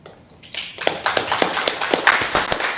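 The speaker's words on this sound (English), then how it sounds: "you'll always hear these clapping hands, and people really appreciate" An audience applauding after a CEO's speech: sharp, scattered claps that build in the first second into steady, moderately loud clapping from a modest group, with no talk over it.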